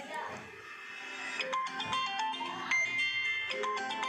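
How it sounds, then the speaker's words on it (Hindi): A mobile phone ringtone for an incoming call plays as a string of bright melodic electronic notes, steady and fairly close, under a person talking during a spiritual discourse session. "इसमें फोन आ गया"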